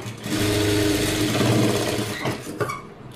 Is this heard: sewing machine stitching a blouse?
yes